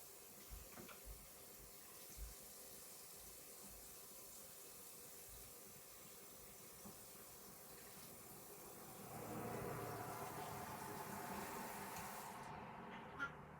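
Tap water runs into a sink while a chalk-painted t-shirt is rinsed out, a soft steady splash that grows louder and fuller partway through before cutting off near the end; no one speaks.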